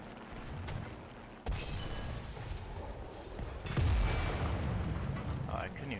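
Enemy gunfire hitting a player's tank in a video game: sharp impact cracks and a heavy boom over a constant rumbling engine drone, fairly loud and close.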